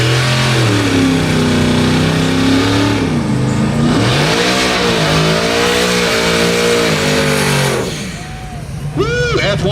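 A Corvette race car roars under hard acceleration at a drag race, its loud engine note climbing through rising harmonics over several seconds before dropping away, with crowd chatter and cheering mixed underneath.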